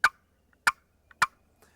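Three sharp, evenly spaced turkey clucks from a box call, short and close, with faint quiet ticks between them.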